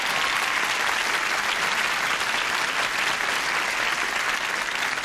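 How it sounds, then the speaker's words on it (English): Studio audience on a game show applauding two contestants, a steady, dense wash of clapping that holds loud and even throughout with no voices over it. "Would you please applaud them?"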